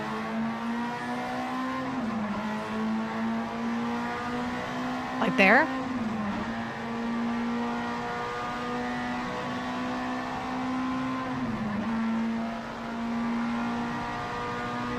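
Race car engine at Road America droning steadily inside the cockpit, with pitch dips around two and twelve seconds as gears shift and a brief rising rev spike near five seconds; a voice speaks briefly over it.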